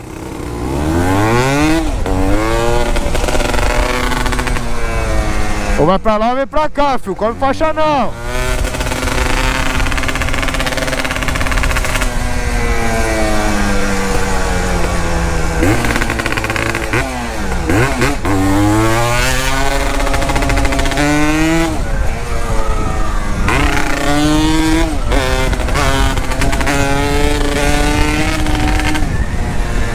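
A Yamaha DT200R motorcycle engine revs loudly at night, rising and falling continuously and up close for the whole stretch, with a voice briefly calling out over the engine.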